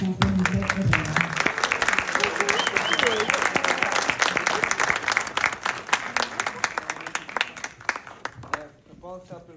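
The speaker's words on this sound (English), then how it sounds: "Let's give it a round of applause for Juan Felipe Herrera." A large audience breaks into sustained applause for poet Juan Felipe Herrera at a Chicano poetry reading, a dense wash of clapping that holds steady for several seconds and then tapers off near the end.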